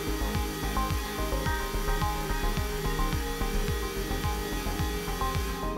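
A Hammer HNC 47.82 CNC milling machine whines steadily with a regular pulsing rhythm as it cuts a guitar nut for a jazz bass, a constant mechanical drone throughout.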